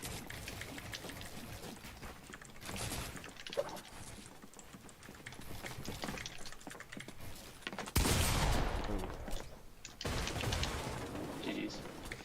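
Bursts of Fortnite gunfire crackle through a busy game mix, with a louder volley near the end and steady typing-like keyboard clatter underneath.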